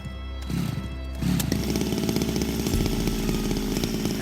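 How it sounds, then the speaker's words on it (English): A chainsaw starting up and running close by, a few sputtering pulls before the engine catches and holds a loud, buzzing idle with rough rhythmic chatter. "Mr. Chainsaw, say hello."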